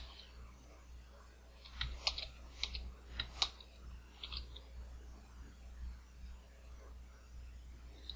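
Quiet computer keyboard typing in short bursts of clicks, clustered in the middle, while writing code for a Space Engineers supply locker script, faint and close with a low background hum.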